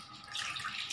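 Soft splashing and trickling as chhena (paneer curds) is gently washed by hand in clean water for rasgulla, faint and brief with close wet swishing.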